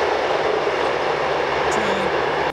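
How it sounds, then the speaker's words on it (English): A loud train passes close by as a steady, heavy rumble and roar that covers the whole stretch, with a faint tonal whine in the middle. "Train is so loud."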